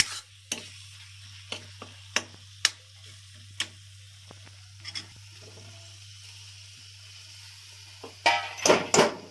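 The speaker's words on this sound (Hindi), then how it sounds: "इसको अच्छी तरह से हिलाते हुए डालेंगे कसूरी मेथी" Masala with kasuri methi being stirred in a kadhai, with faint sizzling under a steady low hum, scattered spoon taps and scrapes, and a louder burst of stirring near the end.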